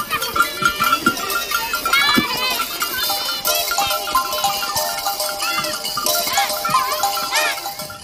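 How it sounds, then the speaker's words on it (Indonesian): A toy goat gives wavering bleats mixed into busy, bright music, with a voice talking over it throughout. "Wow, ternyata hewan kambing"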